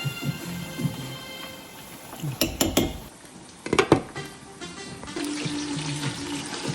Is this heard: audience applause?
no